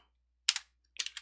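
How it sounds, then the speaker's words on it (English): Close, crisp computer keyboard clicks come in two short bursts of rapid keystrokes separated by silence, as information is entered into CAD software. "Now I can start typing information here"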